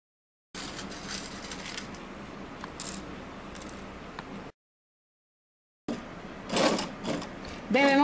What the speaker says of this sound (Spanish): Debemos coser con la parte de la licra arriba y el forro abajo